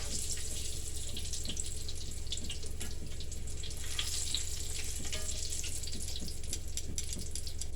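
Fry bread dough fries in hot grease over a medium flame, giving a steady, close bubbling sizzle with scattered crackles and pops throughout, and no voices.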